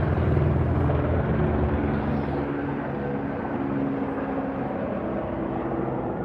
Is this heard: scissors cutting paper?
no